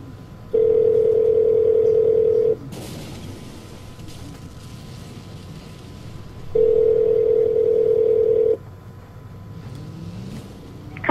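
A telephone line during a call gives two loud, steady tones of about two seconds each, separated by a gap of quiet line hiss, with faint clicks at the end.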